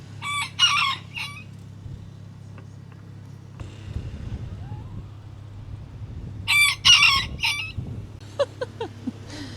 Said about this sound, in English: Oh my God, that rooster!